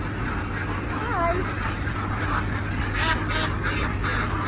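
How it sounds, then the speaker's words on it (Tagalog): Ducks quack among quails at a farm in Bahrain, a few short calls rising over steady low background hum while people talk nearby. "Together with the ducks."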